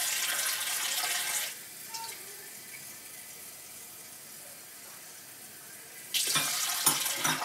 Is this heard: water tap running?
yes